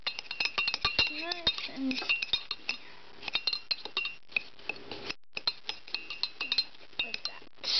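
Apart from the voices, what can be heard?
spoon creaming butter and sugar in a microwave mug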